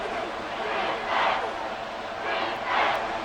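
Virtual stadium crowd in a Madden 24 Chiefs vs Raiders football game, a broad roaring swell that rises twice as fans get loud before a big third down, distant and moderately quiet.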